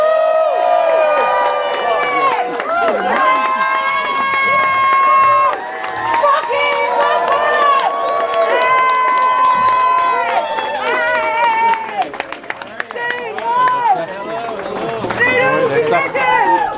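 A UK crowd at a 2024 band Q&A cheers and applauds as the band walks out, a loud, dense wall of claps and whoops with people shouting over it throughout.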